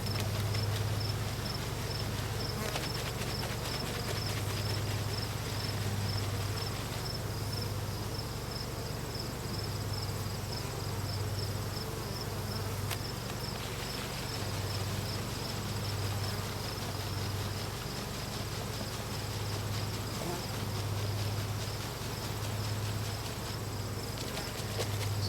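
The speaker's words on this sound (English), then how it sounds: "Nice to be out here with the bees again." Honeybees droning around hives during a fall hive check outdoors, a continuous even buzz with a steady low hum underneath, no talking.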